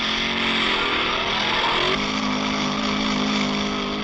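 A car engine droning steadily from inside the vehicle, with a sudden shift in pitch midway, loud and continuous with no voices.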